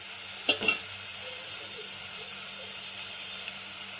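Onion and green chilli frying in a pan for a prawn and ridge gourd curry, a steady soft sizzle throughout with a couple of brief stirring clatters near the start.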